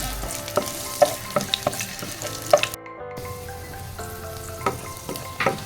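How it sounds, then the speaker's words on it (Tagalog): Ginger sizzles steadily as it is sautéed in a pan until brown for chicken curry, with sharp intermittent clinks and scrapes of stirring over the constant frying hiss. "Gisa-gisa natin ang luya hanggang sa mag-brown siya at mabango."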